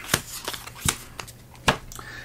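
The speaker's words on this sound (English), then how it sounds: "what you'll do is you'll shuffle these challenge cards" A deck of board game challenge cards for Catching Fire being shuffled by hand: several sharp riffling bursts with short pauses between them, close and fairly loud, with no talk.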